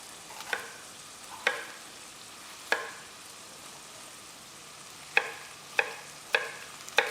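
Green pepper sizzles softly in a pan for a leftover vegetable soup, a steady low fry broken by several sharp scrapes as it is stirred, close and without speech.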